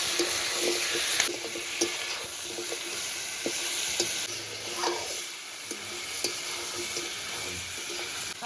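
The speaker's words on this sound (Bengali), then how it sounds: "এবার সব কিছু ভালো করে কষিয়ে নেব, যতক্ষণ না মাংসের কালারটা চেঞ্জ হচ্ছে" Mutton pieces frying with onion, garlic and chui in a pan for Bihari-style curry: a steady, close sizzle throughout, broken by occasional spatula scrapes and clinks as the meat is stirred.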